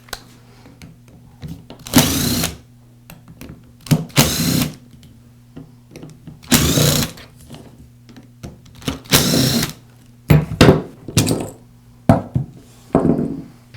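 A powered screwdriver backs out the gearbox housing screws on a Makita angle grinder, giving several short whirring bursts that stop and start, with small clicks and handling noise between them, close and fairly loud.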